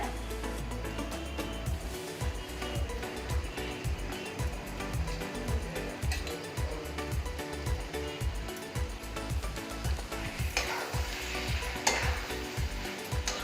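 Boiled eggs are stirred into a thick egg kheema gravy in a hot pan, giving a steady close sizzle with repeated spoon scrapes and soft thumps against the pan, no talk over it.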